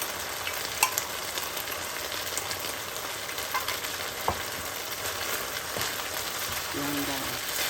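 Pork and onions with green pepper fry in a pan as a homemade ginger sauce is added, giving a steady broadband sizzle with occasional clinks of stirring, without speech.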